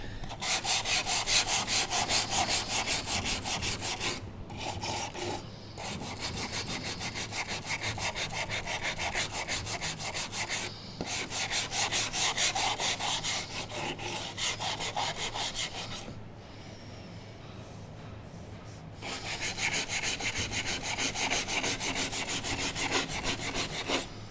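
Hand sanding with 80 grit sandpaper on the damaged body panel of a Suzuki Wagon R+ during rust repair, a close rapid scratchy back-and-forth rasp in long bursts with brief pauses, no talking.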